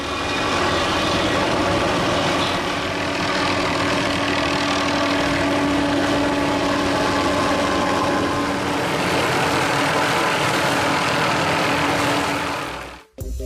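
Tree-trimming helicopter with a suspended cutting mechanism working along power lines, a steady loud rotor and engine drone holding broadband and unbroken, with no voices.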